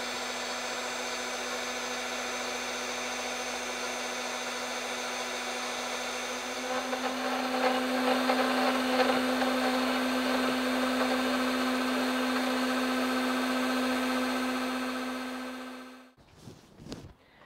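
CNC machine with a rotary axis cutting with a flat end cutter, a steady high motor whine with a busier cutting texture through the middle, ending abruptly.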